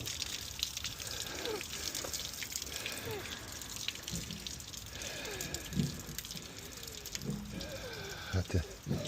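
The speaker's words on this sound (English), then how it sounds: "getting the water to run at the back of this now" Water runs and trickles steadily at the back of a Mk3 Ford Escort Bantam bakkie beneath a low voice, with occasional louder splashes and knocks.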